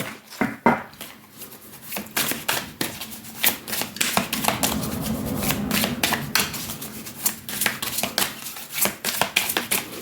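Tarot cards are shuffled and cut by hand: a run of crisp riffling and sharp slapping taps, then a softer stretch of sliding cards, then more scattered snaps, all close and with no talking.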